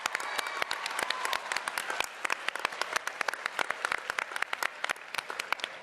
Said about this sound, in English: Give all of yourselves a round of applause.